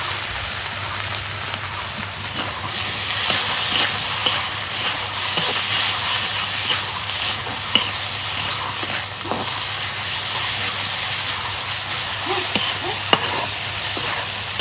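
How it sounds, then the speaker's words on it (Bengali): Ground spices such as coriander, salt and garam masala fry in hot oil for a chicken-feet curry, giving a continuous soft sizzle punctuated by scattered scraping clicks of stirring. "তেলের মধ্যে মশলাগুলো কষে নিলাম"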